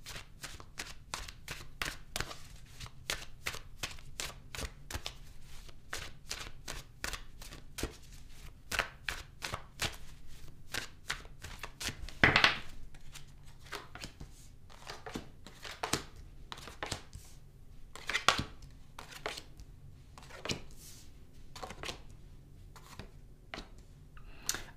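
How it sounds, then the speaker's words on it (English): Tarot cards being shuffled, heard as steady, crisp riffling and slapping of the deck in fast irregular bursts close to the mic, with no talking throughout. "I'm going to clarify the cards and pull some advice."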